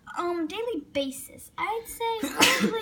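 A sneeze bursts out near the end of the clip, loud and close, cutting into someone speaking just before it.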